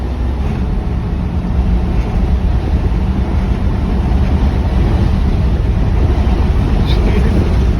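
Constant loud engine roar with heavy low rumble from a 1972 Plymouth Satellite, sustained throughout as it drives at full throttle.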